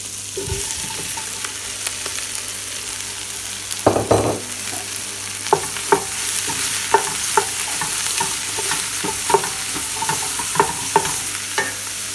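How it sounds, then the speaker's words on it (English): Onions and figs fry for a tomato and fig chutney, with a steady sizzle under regular spoon scrapes against the pan. A louder clatter comes early, then the strokes repeat close up with no talking. "So the onions are getting a bit of colour on now, so we'll go in with the figs."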